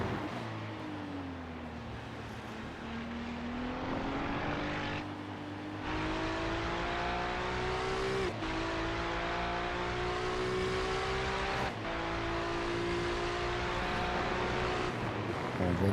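Race car engines screaming around Motegi in a sim racing event, a sustained loud whine that rises and dips through gear shifts as cars chase one another, with a commentator talking over it.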